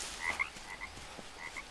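A frog in the jungle survival game Green Hell croaks in a string of short, moderately loud calls repeating at an uneven rhythm over a soft ambient background.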